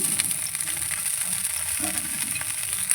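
Oil heating on a hot tawa while making a prawn and bitter gourd curry, giving a steady quiet sizzle with occasional light ticks and pops, no voices.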